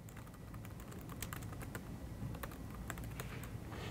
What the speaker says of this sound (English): Here, we'll type in an example messaging extension